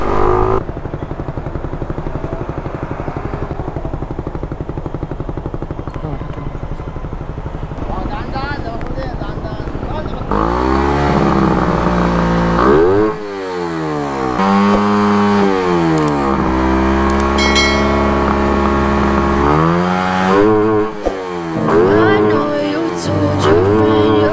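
Suzuki Raider 150fi motorcycle engine after a refresh for a smoking problem idles with a steady, close putter, then revs hard several times to high RPM in rising and falling swoops, with someone talking over it.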